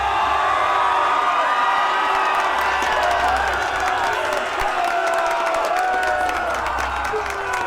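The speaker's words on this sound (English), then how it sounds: "that's a lot of cheering" Large crowd in the video game Enderal cheering and whooping continuously, a dense roar of many voices holding steady and loud throughout.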